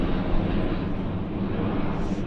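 United Airlines Boeing 737 in from Chicago taxiing at Vancouver Airport, a steady broadband jet engine rumble held at constant loudness throughout.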